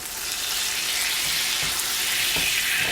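Steak frying in a pan and basted with a tablespoon of butter hisses loudly and continuously up close, with a few soft scrapes and splashes as the butter is spooned over.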